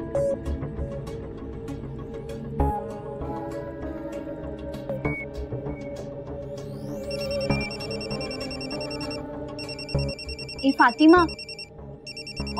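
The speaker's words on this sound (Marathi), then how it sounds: "कधीचा फोन वाजतोय तुझा?" A mobile phone rings in a Marathi TV drama scene, its electronic ringtone repeating in bursts over background music while people talk nearby.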